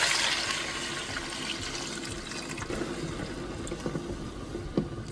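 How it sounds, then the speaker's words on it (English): Water pours into a pot for chicken soup, a steady rushing splash near the start that gradually settles into softer, quieter trickling and burbling. "then we're going to add our water."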